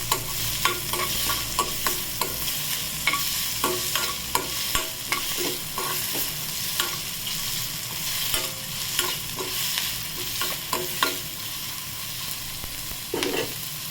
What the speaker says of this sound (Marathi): कांदा घालायचा आणि याला 5 मिनिट परतून घ्यायचं